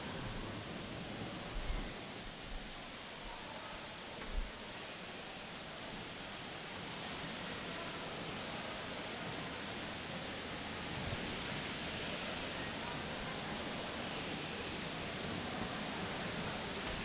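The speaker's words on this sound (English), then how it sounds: "We are now at the waterfall view, where you can get a closer view at the waterfall." Waterfall inside the Cloud Forest conservatory at Gardens by the Bay, Singapore: a constant, even roar of falling water that fills the whole span, steady and unbroken with no voices.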